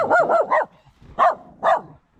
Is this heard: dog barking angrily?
yes